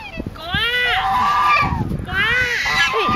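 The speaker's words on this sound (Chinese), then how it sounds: "我都没有听到黑天鹅叫哈，只有那个呆头鹅在叫" A large white domestic goose honks loudly and close by in two long, harsh bursts, each a rising and falling run of nasal calls with a short gap between them.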